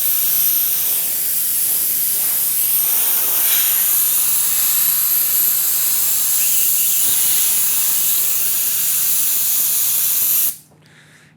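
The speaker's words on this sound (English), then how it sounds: "Just use the compressed air for a second." A long, loud, steady hiss of compressed air blows close by to dry off a surface in a glass surface-finishing studio, then cuts off abruptly near the end, with no talk.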